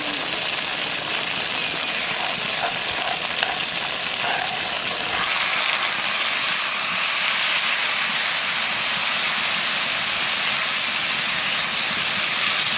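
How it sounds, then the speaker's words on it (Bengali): Fried okra simmers in a mustard paste with green and dried chilli, turmeric and salt, giving a steady loud hiss and sizzle that grows brighter partway through, with no voices. "সর্ষে দেওয়ার পরে 2-3 মিনিট জাল দিচ্ছি।"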